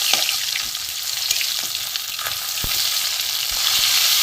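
Hilsa fish heads fry loudly in a pan with a steady, dense sizzle, broken by a few sharp knocks as the heads are broken apart.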